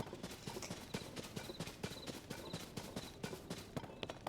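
Horse hooves clip-clopping in Zelda: Tears of the Kingdom, a steady, quick rhythm of sharp hoofbeats at moderate distance, faint and without talk.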